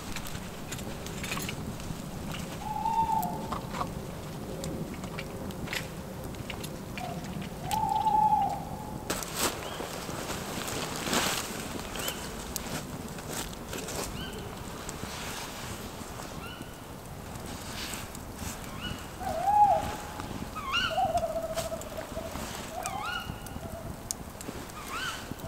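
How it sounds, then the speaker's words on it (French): Several owls calling at night around a forest hammock camp, short hooting calls repeating at scattered intervals over low ambient background noise, moderately distant. "Alors ça, ce qu'on entend, c'est plusieurs chouettes."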